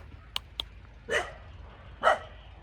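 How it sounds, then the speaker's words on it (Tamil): Dog barking in open farmland fields, a few short distant yips followed by two louder bark bursts, heard alone outdoors. "நாய் குலைக்குது"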